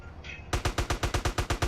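Rapid burst of gunfire in a driving game, about ten sharp evenly spaced shots in quick succession after a short quiet lead-in, loud and close like an automatic weapon.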